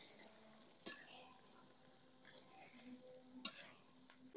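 Chicken pieces being stirred into cooked spices in a pot for a chicken and taro curry, giving a quiet, intermittent scraping and soft sizzle with a few sharper clatters of the spoon.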